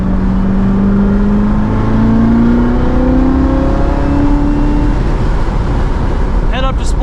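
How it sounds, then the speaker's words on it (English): A 2019 Chevrolet Corvette Z06 with a seven-speed manual accelerates on a race track, its engine droning loud and close from inside the cabin as the pitch rises steadily through the gear, then an abrupt shift near the end. "We're just breathing on the throttle and it just kind of shrinks the straightaways."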